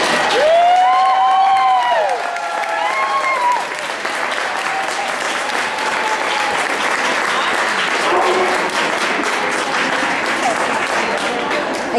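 Sustained audience applause and light cheering at a team obedience trial at a national dog event, loud close clapping throughout, with a voice speaking briefly over the start.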